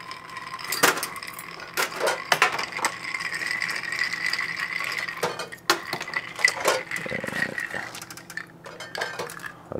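Scotch and Drambuie being stirred over ice for a Rusty Nail, with close rattling, clinking ice cubes knocking against the glass and spoon in quick irregular bursts, and no talking.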